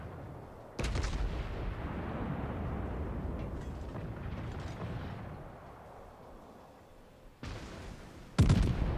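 Battleship gunfire and shells landing in World of Warships: a sudden sharp blast, then a long rumbling roar that fades, followed by two more booming impacts near the end.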